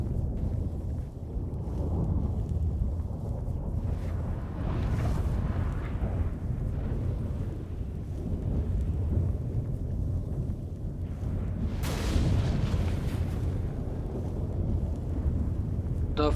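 A storm in The Witcher 3 rumbles as a dense, continuous roar of wind and low booming, with surging swells and a sharp burst partway through.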